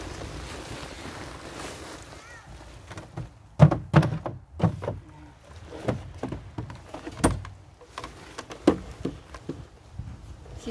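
A wooden drawer pushed in and pulled out repeatedly, giving a series of knocking thuds and short scraping slides that are loud and close, with no talk over them.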